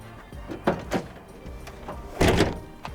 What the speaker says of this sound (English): When we open door